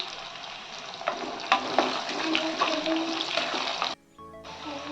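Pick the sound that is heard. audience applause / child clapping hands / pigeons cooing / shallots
shallots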